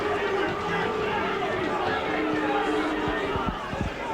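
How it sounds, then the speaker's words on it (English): Rugby league crowd at a January 1995 Workington Town versus Salford match, a steady dense murmur of many voices filling the ground, with a few sharper thumps and swells near the end as spectators react to tackles. "The crowd not too happy about a few of these tackles, and certainly making their feelings felt to Mr. Holdsworth"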